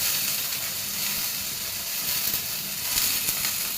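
Onion, garlic, green chillies and dried chillies frying together in hot oil give a steady, close hiss and sizzle, with occasional faint scraping, for Bengali kochu pata bhorta.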